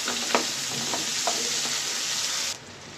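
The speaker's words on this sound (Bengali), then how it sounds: "তারপরে এগুলো একটু হালকা ভাজা দিব, বেশি একটা ভাজা দিব না" Steady hiss of onions lightly frying in a pan with a few soft scraping stirs, continuous and close, then the sizzle drops away abruptly near the end.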